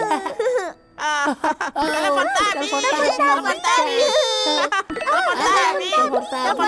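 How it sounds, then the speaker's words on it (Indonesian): A Tubby phone in a Teletubbies cartoon rings with a bright, jingly, sing-song melody, close and clear, mixed with high childlike voices and chatter throughout. "Itu telepon Tabi."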